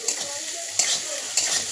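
Onion, chilli and ginger sizzle in oil in a pan while a spatula stirs them, with steady frying hiss and a few sharp scraping strokes close by.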